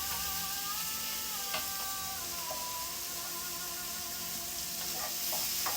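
Peas dropped into a hot pan sizzle steadily at close range, a soft continuous hiss with small clicks and taps throughout.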